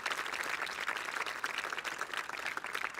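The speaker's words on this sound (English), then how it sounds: "let's give them a round of applause" Audience applause at the Rose Queen announcement and coronation ceremony, a continuous even wash of many clapping hands, moderately distant and steady throughout with no talk.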